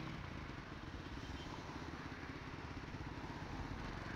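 A Skyteam Tracker 125 motorcycle being ridden on the road, its small engine producing a steady, faint droning rumble with wind noise and no pauses.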